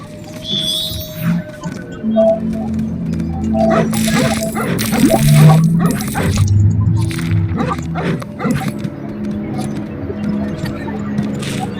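Barking dog in the Lego Harry Potter video game, scattered barks and yips rising over busy game music and effects, loudest around the middle.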